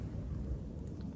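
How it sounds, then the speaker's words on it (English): Distant thunder: a low, steady rumble with no sharp crack, fairly faint. "At least they acknowledged there was thunder off in the distance."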